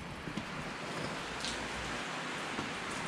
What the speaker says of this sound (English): It sounds like it's raining harder than it actually is.